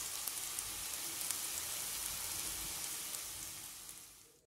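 Radish chutney mixture simmering in a pan on low heat, a soft continuous hiss and faint bubbling sizzle that fades out at the end, no talk.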